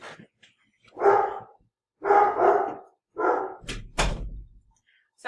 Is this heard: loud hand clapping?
no